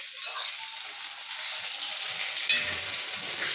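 Cashews frying in hot oil in a pan give a steady, close bright sizzle with a soft bubbling hiss that continues throughout and has no pauses.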